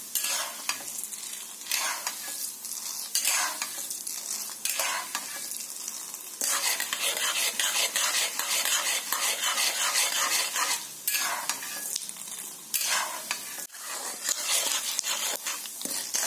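Urad dal and chana dal frying in oil for lemon rice, a dense close sizzle with constant crisp stirring and scraping in the pan.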